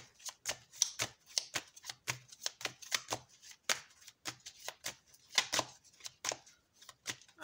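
Tarot cards are shuffled by hand, a steady series of crisp riffling and slapping bursts, close and fairly quiet with short pauses between them.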